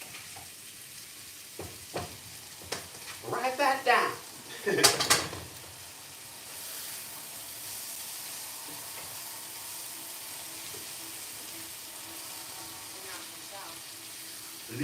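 Eggs frying in a second pan for hash, a steady low sizzle that runs on after a few clinks and scrapes of utensils and pans, with brief speech near the start.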